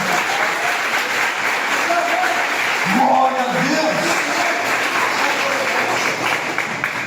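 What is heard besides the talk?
audience applause in church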